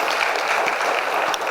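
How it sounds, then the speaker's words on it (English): A large audience at an HR summit gives dense, steady applause, a loud continuous wash of many hands clapping at once with no gaps, heard alone without speech. "Louder round of applause"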